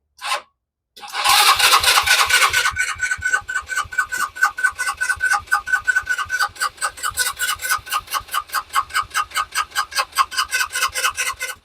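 A Kymco scooter found in a barn after sitting for years cranks over and over with a fast, rhythmic chugging starter. After one brief initial whirr, it runs steadily without catching, close and moderately loud.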